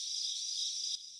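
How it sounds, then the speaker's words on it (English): Crickets trill in a continuous high, buzzing chirp on a quiet night, faint and alone for a brief moment. "Night fell. The surroundings became incredibly quiet, with only the sound of crickets filling the air."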